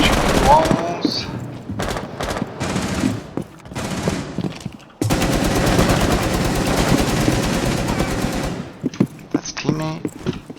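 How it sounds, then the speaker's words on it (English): Rapid automatic gunfire from a Rainbow Six video game shooting range, dense sustained bursts up close with short gaps, then a long unbroken volley before it stops; talk is heard between bursts. "Shoot the walls."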